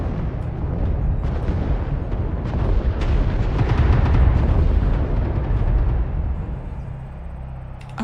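Artillery strike in MechWarrior Online: a dense, continuous roll of heavy booms and crackling blasts that swells in the middle and tapers slightly toward the end.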